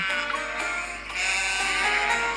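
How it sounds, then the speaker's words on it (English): Sheep bleating in a pen, a continuous nasal bleat close by that wavers and rises in a second burst, with no one talking. "After pushing the last overly energetic sheep back into the pen, I look at the little sheep running around and frown."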